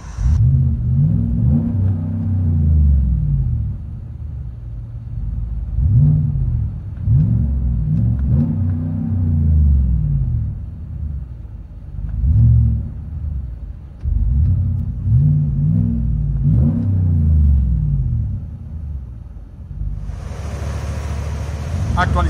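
Deep engine rumble of a 2017 GMC Yukon Denali XL 6.2L V8 with a Dynomax Race Bullet exhaust, heard from inside, rising and falling through repeated revs, loud and close, with voices talking now and then.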